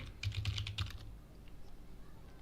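A short flurry of computer keyboard keystrokes as a search is typed, quiet and close, then fading into low room hum.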